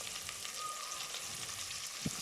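Soft, continuous sizzle and crackle of onions frying in oil toward golden brown, fairly quiet and steady, with a brief low knock near the end.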